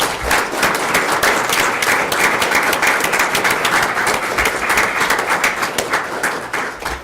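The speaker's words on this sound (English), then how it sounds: "Round of applause for these Amen" A crowd at a school board meeting gives a loud, sustained round of applause, a thick wash of many hands clapping that stays steady for several seconds before easing slightly at the end.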